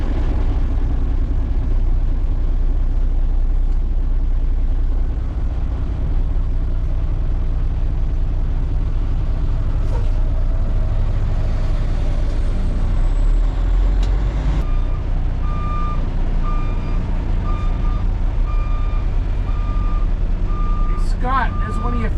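A dump truck engine rumbles steadily and loudly close by, with an air brake hiss, and then repeated reversing beeps sound toward the end while a person talks faintly.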